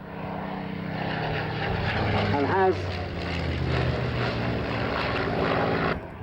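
A Merlin-engined fighter of Battle of Britain vintage flies past at an airshow, its propeller engine droning steadily with a brief pitch-shifting sweep midway, while a commentator speaks over the sound.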